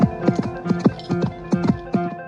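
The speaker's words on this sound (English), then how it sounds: "he mounted, dug his heels into her flanks, and rode round the lake at a gallop" A dapple-grey mare gallops around a lake, her hooves clip-clopping in a quick, repeating three-beat rhythm, close and clear with no talk over it.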